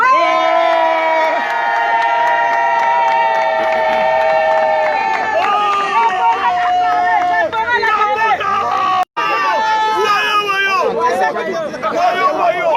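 A large crowd at a rally in Brussels cheers and shouts loudly and continuously, with many overlapping high voices and whoops close by.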